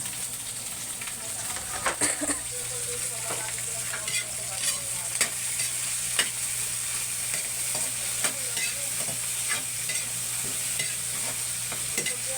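Green and red chili peppers fry in a hot pan with a steady sizzle, with sharp scrapes and knocks from stirring scattered throughout, close up and alone.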